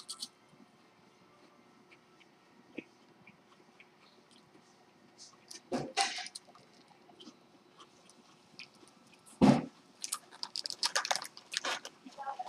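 Thin Nikko chocolate crackers from Japan being chewed, with a quiet background broken by a few sharp crunching bites, the loudest near the middle and a run of smaller crunches toward the end.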